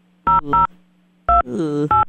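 A telephone number is dialed, producing several short, loud touch-tone beeps in an uneven rhythm with a brief pause, while a voice speaks between the tones.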